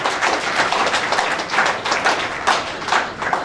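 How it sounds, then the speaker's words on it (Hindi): Applause from an audience at a Jamiyat ul Abbas community gathering in Karachi, a dense patter of many hands clapping steadily with a few louder swells, moderately near and unaccompanied by speech. "इस पर तो तालियां बजनी चाहिए भाई।"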